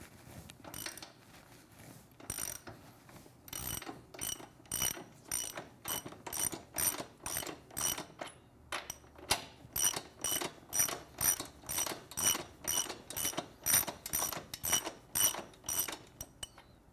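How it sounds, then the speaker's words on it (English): Ratchet wrench with a 27mm socket breaking loose the rear axle nut on a Triumph Street Twin motorcycle: a long run of rapid, evenly spaced metallic clicks in bursts, close and clear, with no talking. "Using 27mm socket, I want to loosen the rear axle."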